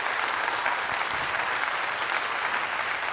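Dense, even applause rolls on without pause for a few seconds, with no voices over it.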